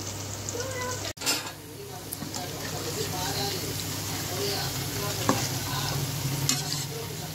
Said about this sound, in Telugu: చికెన్ ఫ్రై కూడా ఒక పక్క మనకి అయిపోతుంది